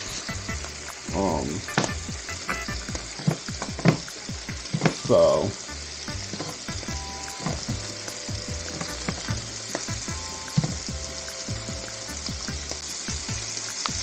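Garlic and garlic stems fry in a pan with a steady, busy sizzle, broken by a couple of louder stirring scrapes and clatters near the start, close and continuous throughout.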